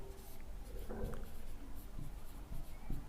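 Pen or chalk writing out a definition during a Hindi-language chemistry lesson on carbon allotropes, with steady scratchy strokes and a few taps across a few seconds under faint room noise.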